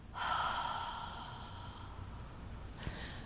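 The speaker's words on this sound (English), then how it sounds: "Now, do your exhale." A person on a decline bench lets out one long, soft exhale through the mouth during an ab exercise, close and fading gradually, with a brief faint noise near the end.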